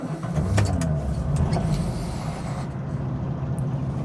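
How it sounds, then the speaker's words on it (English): A 1965 Vauxhall HA Viva engine cranks and catches, then settles into a steady low idle, close by with no talking. "So start the engine"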